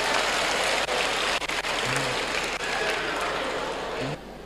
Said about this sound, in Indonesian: Tepuk tangan untuk suami Anda.